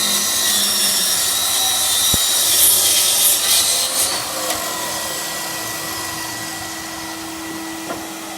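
A DeWalt mitre saw cuts through timber, its motor giving a loud, steady broadband whine with a rising and falling grind as the blade passes through the wood, then running on evenly.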